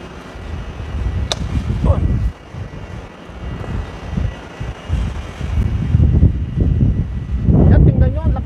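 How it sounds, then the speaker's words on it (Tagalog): Strong wind blows steadily in a garden where a four-year-old moringa tree is being moved into a bucket, gusting and roaring against the microphone while a voice speaks intermittently. "Lakas pa rin ang hangin talaga."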